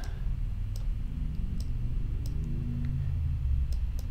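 Several sharp mouse clicks from a computer in Rocksim rocket design software, spaced irregularly and sounding close and faint above a steady low background hum.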